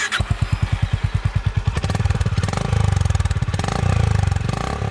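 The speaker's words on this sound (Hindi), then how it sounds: "दोनों बाइक्स में 350 सीसी का सिंगल सिलेंडर इंजन है" A 350cc single-cylinder motorcycle engine, from a Honda H'ness CB 350 or Royal Enfield Meteor 350, thumps in slow, distinct pulses, then revs up into a fast, steady loud throb close by.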